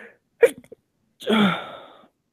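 A single loud sneeze, a short sharp intake followed by a forceful burst, with a few small vocal sounds before it.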